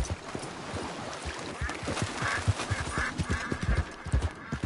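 Horse hooves clip-clop steadily at a walk in Red Dead Redemption 2, a rhythmic run of close, crisp hoofbeats with faint ambient noise around them and a rider's low spoken commands now and then.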